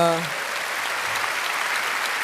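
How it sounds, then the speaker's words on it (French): A live studio audience at a Star Academy broadcast applauds late arrivals with a steady, even wash of clapping, and a voice speaks briefly at the very start. "faut applaudir les retardataires quand même"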